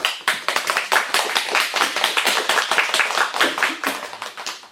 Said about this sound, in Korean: 박수 쳐줄 때가 기다린 거지